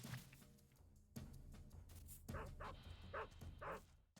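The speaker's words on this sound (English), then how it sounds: "They're barking." Dogs barking in the stealth video game Metal Gear Solid 3: a few yips and barks at moderate distance over a steady game background with music, in short bursts through the second half.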